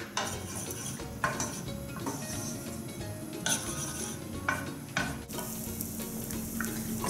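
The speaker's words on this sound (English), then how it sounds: "Garlic in. And saute this until it's brown." Garlic sautés in a pan as the first step of salmon escabeche, making a soft continuous sizzle broken by several sharp scrapes and clinks of a utensil stirring against the pan.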